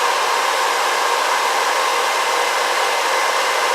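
A BR Bluerise nail dust collector fan runs close up with a loud, steady, even whoosh of rushing air that holds without change throughout.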